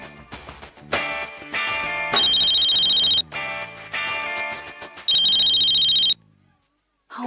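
A telephone rings unanswered in a domestic TV-drama setting, with repeated electronic ring bursts separated by short gaps, loud and close, fading out into silence at the end.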